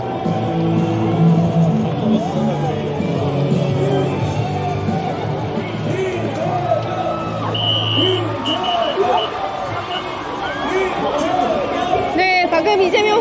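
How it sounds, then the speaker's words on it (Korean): A dense crowd of citizens cheers and shouts at an Incheon political rally as presidential candidate Lee Jae-myung walks to the podium. The roar stays loud and continuous, with voices layered over it. "시민들의 환호를 들으면서 연단으로 입장하는 모습 여러분들 함께 보고 계십니다"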